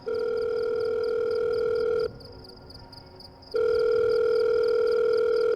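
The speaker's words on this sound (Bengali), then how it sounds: "আমি বিছানায় এসে ফোন হাতে নিলাম, ফোন করলাম সুরঞ্জনাকে।" A steady telephone dial tone hums loudly, cuts out briefly into a quieter gap, then resumes at full strength.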